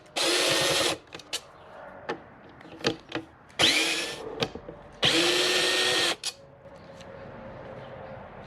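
A power drill bores holes for a motorcycle luggage rack, running in two long loud bursts with short whirs and clicks between them, close and alone.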